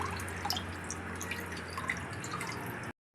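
Something is washed under running water, a faint, steady trickle and splash with small drips, heard alone before it cuts off abruptly.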